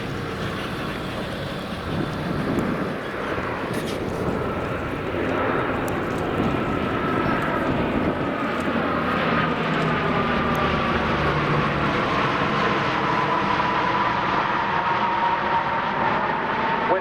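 A German Navy Lockheed P-3 Orion turboprop patrol aircraft drones steadily at an air show at RAF Cosford, its engines roaring loudly and continuously with a shifting, whining tone throughout.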